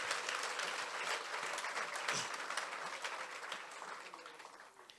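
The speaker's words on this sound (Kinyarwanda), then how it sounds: "Duhe Imana amashyi menshi menshi menshi." A church congregation at a Pentecost revival service bursts into sustained applause, a dense, even wash of many hands clapping at once that fades slightly toward the end.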